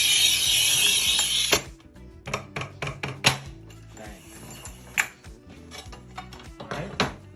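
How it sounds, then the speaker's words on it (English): A RUBI manual tile cutter on a RUBI 4-in-1 workbench ratchets and clicks as its mechanism is worked: a loud opening burst, then a string of sharp metallic clacks and scrapes at an uneven pace, close by and without talk. "we do have a RUBI manual cutter here as well"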